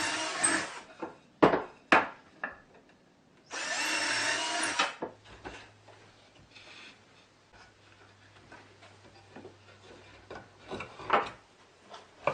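A notched steel shaft spun as a reamer enlarges drilled holes for a plasma cutting pantograph, in two short loud drilling bursts separated by clicks, taps and handling noises.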